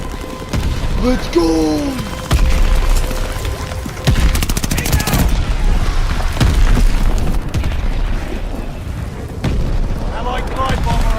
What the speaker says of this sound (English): Friendly bombing run underway.